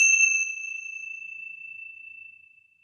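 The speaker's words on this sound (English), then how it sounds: "for the sound meditation, I'm going to ring the bell" One strike of a meditation bell rings out clearly, then holds a pure, sustained tone that slowly fades over several seconds, heard alone in quiet.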